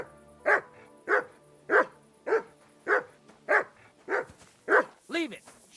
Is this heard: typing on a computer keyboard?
no